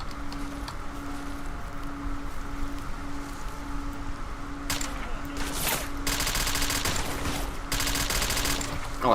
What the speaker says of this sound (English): Oh, I do like this rapid AK.